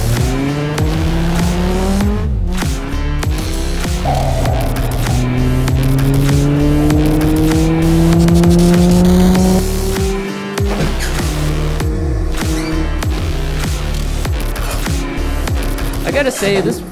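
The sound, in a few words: car racing with tire squeal in Assetto Corsa video game at Charlotte Motor Speedway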